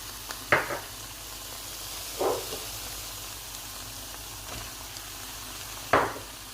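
Grated garlic and mushrooms fry in a pan over high heat with a faint steady sizzle, broken by three short stirring clatters.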